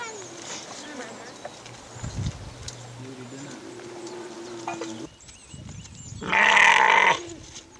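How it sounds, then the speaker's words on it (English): Goats bleating during milking, a few scattered bleats over background noise and then one loud, drawn-out bleat close by near the end. "milking the goats."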